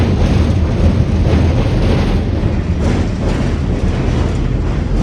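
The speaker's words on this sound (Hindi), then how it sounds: "ये जी लोकोमोटिव गुजर गया।" A locomotive train passing by near Attock Khurd railway station, a loud dense roar and rumble of rolling wheels and engine filling the whole stretch at close range, with no talk.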